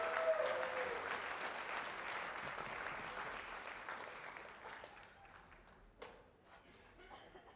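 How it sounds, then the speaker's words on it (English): Audience applause for inductees at the 2022 Bret Harte Athletics Hall of Fame induction ceremony, a steady crowd clapping that gradually thins out and fades toward the end with a few scattered claps. "one more round of applause for all the inductees in group number 2 tonight."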